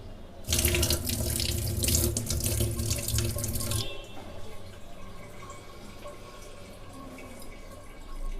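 A tap runs loudly into a basin for about three seconds while tulsi leaves are washed, then shuts off, leaving quieter dripping and handling of wet leaves.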